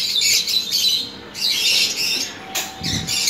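Pet lovebirds let out harsh, loud squawks in several separate bursts, close to the microphone, with short pauses between calls.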